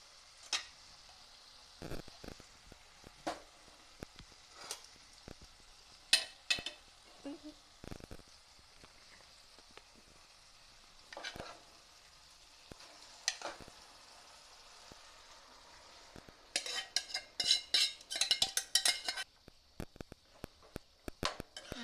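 Suran (elephant foot yam) and tomato are stirred in a cooking pan over a gas flame, giving soft frying sizzle with irregular scraping clicks of a spoon against the pan and a busier flurry of stirring near the end.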